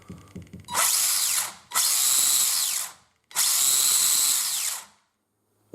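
Electric motor of an RC drift car converted to rear-wheel drive, revved hard in three long bursts, a loud high whine with short pauses between, heard alone up close.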